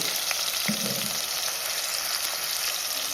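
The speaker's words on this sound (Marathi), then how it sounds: "आपण कढीपत्ता टाकून घेतला त्याच्यात आपण कांदा चप करून घेतले तो सुद्धा टाकून घेऊ" Chopped onion frying in hot oil with curry leaves, giving a steady, close sizzle that fills the whole stretch, with a brief stir or clatter near the start; no voices.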